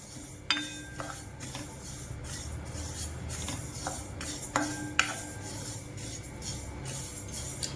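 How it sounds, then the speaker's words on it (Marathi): Sesame seeds being dry-roasted and stirred in a pan for sweet chikki, a spatula scraping and rasping against the metal with occasional sharper clinks, fairly quiet and steady with no voices. "असे आपल्याला तडतड वाजेपर्यंत खमंग असे भाजून घ्यायचे तीळ चांगले भाजले गेले पाहिजे"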